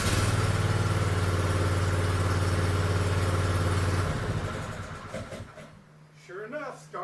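A Troy-Bilt TB30 lawn mower engine runs with a steady, loud low hum, then winds down to a quieter idle while a voice speaks nearby.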